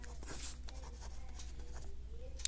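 Faint scratching strokes of writing on a board during a Telugu lesson, a few quick marks in a quiet room with no voice.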